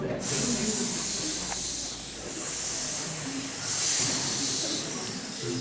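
Audience hissing at a school performance of Romeo and Juliet, a crowd of voices producing a sustained breathy hiss that swells and fades in waves over several seconds, with faint murmurs beneath.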